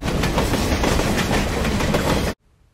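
A Southern Pacific GS class locomotive runs with a dense, loud rumble and rhythmic clatter of wheels on rails. The sound stops suddenly after about two seconds.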